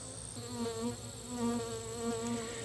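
Honeybees buzz steadily around a hive being dosed with Apiguard, a close, continuous droning hum with wavering pitch and no voices.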